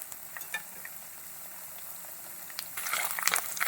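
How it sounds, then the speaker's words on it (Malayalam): Chopped coconut pieces sauté in a hot pan for a Kottayam-style prawn curry, giving a steady soft sizzle with light stirring scrapes that grow louder and busier toward the end. "അതിങ്ങനെ കൊത്തി അരിഞ്ഞ് ഇട്ടൊന്ന് വാട്ടിയെടുക്കുന്നു വാടട്ടെ"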